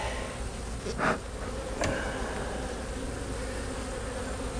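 Honey bees hum steadily inside a full, crowded hive box that needs splitting, a continuous close-up drone with a couple of brief louder bursts as the frames are handled.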